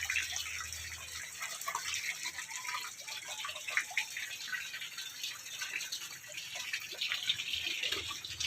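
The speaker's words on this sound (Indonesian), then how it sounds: "Sirkulasi airnya" Water circulating through a tilapia, catfish, gourami and patin fish pond in a village, a steady close splashing trickle and gush running continuously with no voices.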